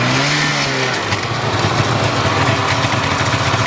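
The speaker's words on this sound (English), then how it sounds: "I'm going to give it some throttle and you'll see it move over and grab the belt." Snowmobile engine with clutch and torque-converter drive revs under throttle as the clutch grabs the belt, a loud, steady, high buzzing drone rising in pitch with no pauses.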